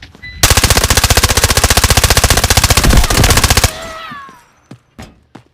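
Rapid automatic gunfire from a video game weapon rattles in a loud, continuous burst for about three seconds, followed by a few scattered single shots and faint sounds.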